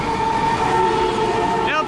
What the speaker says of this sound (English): We have 2 MB7 passing platform number 2.